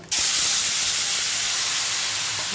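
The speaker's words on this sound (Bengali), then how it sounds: "বড়াগুলো ভাজা হয়ে গেছে, এবারে যে তরকারিটা তুলে রেখেছি ওটা ওর মধ্যে দিয়ে দেব" Cooked ridge gourd and potato curry tipped into a hot pan with fried chana dal fritters sets off a sudden loud hissing sizzle that holds steady and close throughout.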